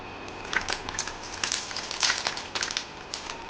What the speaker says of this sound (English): I'll need my scissors to open this up.